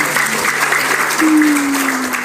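An audience claps together in a steady, moderately loud burst, with a faint tonal hum running underneath.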